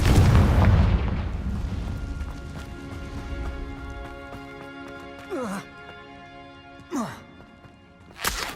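A fiery Confringo spell blast in Hogwarts Legacy lands as a loud, deep boom that rolls off slowly under sustained game music, with voices and sweeping effects following.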